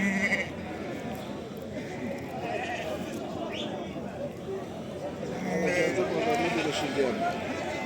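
Sheep bleating at a sheep market in Ganja, with several calls rising over a busy crowd murmur and people talking nearby throughout.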